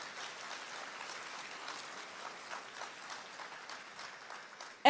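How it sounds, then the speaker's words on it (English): An audience applauds steadily at a Day of Remembrance gathering, the clapping soft and somewhat distant, lasting several seconds without letting up. "Give yourselves a round of applause."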